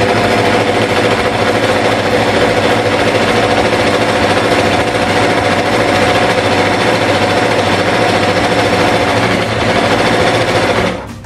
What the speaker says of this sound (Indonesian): Kemudian biarkan mesin jahit berjalan.